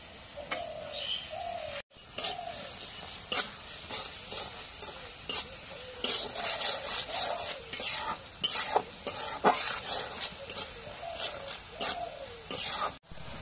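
Cumin and garlic paste with turmeric fries in a pan, a steady sizzle broken by brisk scraping stirs, while doves coo softly in the background.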